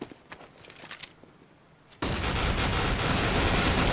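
HE grenade and gunfire in Counter-Strike on de_dust2: a few scattered gunshots, then a sudden loud burst that stays dense and sustained, like an explosion with heavy fire behind it.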